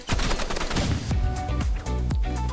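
Video game firefight with dense, loud gunfire throughout, a sniper rifle among the weapons, heavy sharp reports booming every half second or so over a constant background of shots and effects.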